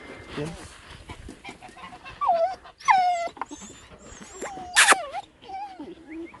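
A Malaklı dog yelps and whimpers in a few short, high cries amid background chatter and barnyard clucking.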